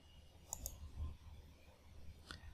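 Mouse clicks on a computer while setting up Pop OS 22.04 in VirtualBox on Windows: a quick double click early on, then a single click near the end, faint and close against a low hum.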